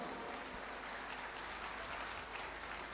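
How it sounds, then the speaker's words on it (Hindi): Applause from an audience at a business award ceremony where a Ruby Level trophy is presented, steady sustained clapping from many hands throughout, fairly distant and even in loudness with no voices on top. "जोरदार ताली चाहेंगे दोस्त आप लोगों से ली"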